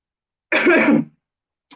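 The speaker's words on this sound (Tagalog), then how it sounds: "Ako po ay inuubo." A single harsh cough burst, loud and close, lasting about half a second, followed by a faint short trailing sound.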